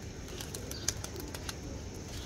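Pigeons flap their wings in quick, soft bursts, several flutters close by over a low, steady background hum.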